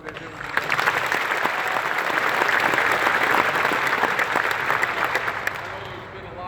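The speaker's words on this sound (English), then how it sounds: "give a round of applause to our coaching staff" A crowd of football campers at Ohio State applauds the coaching staff, a dense, sustained burst of clapping that swells and holds for several seconds before tapering off.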